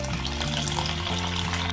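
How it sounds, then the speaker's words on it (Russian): Water pours steadily into a pot holding filled jars of apple preserves for sterilizing, a close continuous gushing and splashing with a rising filling tone. "Заливаю водой по плечики."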